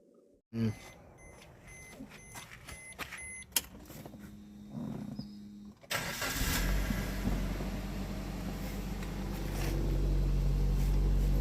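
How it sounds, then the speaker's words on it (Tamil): Clicks and a brief whir, then a 2022 Maruti Ertiga's engine cranks and catches, settling into a steady, loud idle that rumbles close by. "வாங்க உங்களுக்கு இன்ஜின் ஸ்டார்ட் பண்ணி காமிக்கிறேன்"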